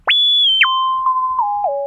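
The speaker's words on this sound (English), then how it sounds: "Right now we just have a basic sine wave with some kind of envelope tied into it." A TC-11 synthesizer on iPad plays a basic sine-wave patch with an envelope: a clean tone sweeps up, then steps down through several gliding pitch changes, clear and alone with no talking.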